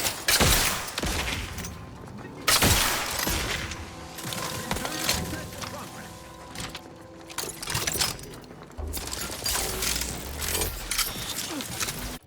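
Bursts of gunfire in the video game The Outer Worlds 2 crackle in rapid volleys separated by brief lulls, loud and close, with mechanical clatter and faint background game sounds between shots.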